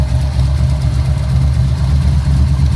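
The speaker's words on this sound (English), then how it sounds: "This is the first time it's ever just fired up and just idled without any throttle input" A car engine fitted with an Edelbrock 1405 carburetor, which replaced a QFT, idles on its own with no throttle: a steady, loud, low-pitched rumble close by that stays even throughout, with no talking.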